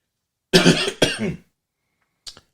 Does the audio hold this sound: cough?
yes